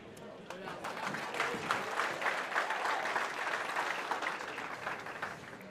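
A crowd applauds Jung-Lin Chang at the 2019 US Open 8-Ball Championship final in the USA, with sustained, even clapping from a full hall that carries throughout.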